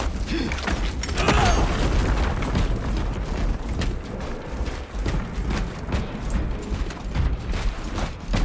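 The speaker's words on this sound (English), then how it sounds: "Reloading weapon!" Mechanical clanks, creaks and heavy thuds of a weapon being reloaded in Warhammer 40K: Space Marine 2, loud and close, layered over rumbling battle noise with no speech.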